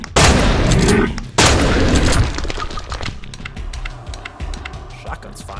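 Shotgun blasts in a horror video game, loud and close, with a couple of heavy booms followed by rattling, clattering game noise fading under the action.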